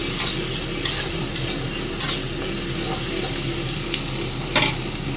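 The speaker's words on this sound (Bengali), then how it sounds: "পেঁয়াজটা একটু ভালো করে একটু ভাজবো" Onions frying in a pan for a spicy bhetki fish dish, a loud steady sizzle broken by repeated spatula scrapes and stirs at irregular intervals, close up.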